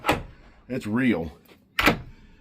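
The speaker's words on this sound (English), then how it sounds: "I get this door one-handed close is not easy" A door swings and thumps shut, one-handed, with a loud slam at the start and another near the end, while a voice speaks briefly between the impacts.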